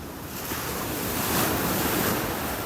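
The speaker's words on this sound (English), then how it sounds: "it's probably hard to hear me over the wind" Constant roaring wind buffeting the microphone on a beach in North Naples, Florida, with surf mixed into a dense, unbroken wash of noise and no voices.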